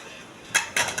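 Unbreakable plates are handled in an IKEA store, giving a few short clatters and knocks, one sharp tap followed by a couple of quick rattling contacts over low store murmur, with no speech.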